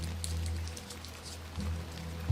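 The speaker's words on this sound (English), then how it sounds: "A bit of rain won't kill me" Steady rain hissing in the adventure game The Excavation of Hob's Barrow, a soft continuous wash of drops over a low ambient drone, with a brief thump at the very end.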